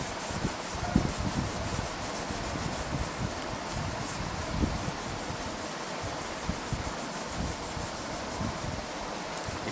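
Soft pastel rubbed across paper during an abstract painting, making a continuous dry scratchy friction with repeated stroke-like rubs, close and fairly quiet.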